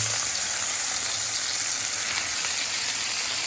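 Varenyky and pieces of meat fry in oil in a pan, giving a dense, steady sizzle that stays even and close throughout with no talking.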